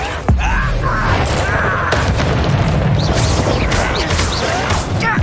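Spell blasts and explosive booms from the Confringo fire spell in the Hogwarts Legacy video game, a loud, dense crash that fills the whole clip with repeated whooshing impacts and no pause.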